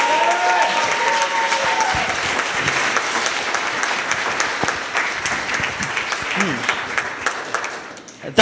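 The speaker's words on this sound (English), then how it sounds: "I know we've been doing a lot of clapping" Audience applause at the Coalition for Queens Access Code demo day, sustained many-handed clapping that holds steady, then thins out and fades near the end.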